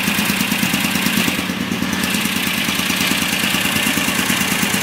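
A car engine fitted with Kadron Solex H40/44EIS carburetors idles steadily and close up, a loud, even rumble with a fast mechanical pulse and a slight dip in tone midway, with no voices.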